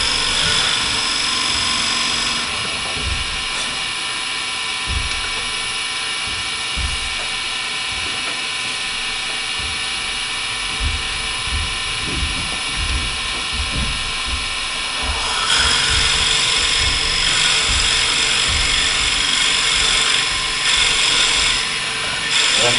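Steady, loud whirring and grinding of a lathe as a drill bores into a spinning wooden vessel being hollowed, a continuous machine drone that swells louder and brighter partway through.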